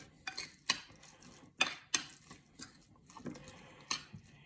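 A fork stirs a mixture in a bowl with several separate scraping clicks and soft wet swishes at an irregular rhythm, quiet and close, with no voices.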